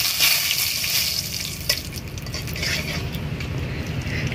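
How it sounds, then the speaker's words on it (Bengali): Whole cumin seeds and bay leaf hitting hot oil on a high flame, a loud hissing sizzle that flares at once and crackles steadily throughout, with no voices. "এই যে আস্ত জিরে আমি এই জিরে আমি ফোড়ন দেবো।"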